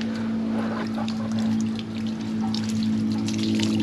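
Water pours and splashes steadily from an outboard boat engine being flushed, over a constant low motor hum, a continuous wet rush with no talking.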